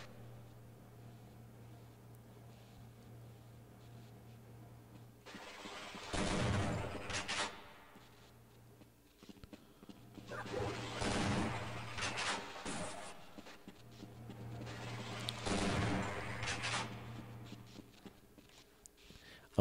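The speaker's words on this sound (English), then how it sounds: "I am burning through my shotgun ammo pretty quickly" Shotgun blasts in Half-Life: Blue Shift come in three loud, separated bursts, each a sharp boom with a short rumbling tail, over a faint steady game hum.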